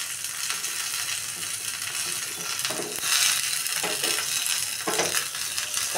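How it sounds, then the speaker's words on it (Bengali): Curry leaves and asafoetida fry in hot oil in a home kitchen, giving a steady bright sizzle with occasional louder spatters and stirring, with no voices over it. "কারি পাতাটা একটু ভাজা হলে একটু জল দিয়ে দেবো।"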